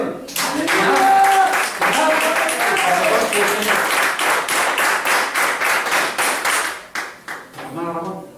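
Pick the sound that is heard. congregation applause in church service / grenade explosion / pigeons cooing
congregation applause in church service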